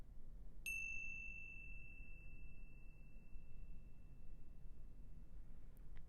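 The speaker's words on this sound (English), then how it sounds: "And drawing attention to the sound of the chime." A meditation chime is struck once, giving a clear bright ding that rings and slowly fades over several seconds against quiet room noise.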